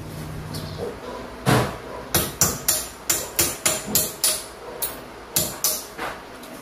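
Chisel struck repeatedly with a hammer to open up a recurring crack in a concrete wall before epoxy filling, giving about a dozen sharp, close metallic blows in an uneven rhythm, with no talking.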